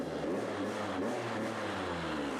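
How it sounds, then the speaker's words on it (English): A KTM SX85 motocross bike engine runs steadily with a low, buzzing drone, close and unbroken for the whole moment. "Start your engine normally. Then it shows that the engine can work normally."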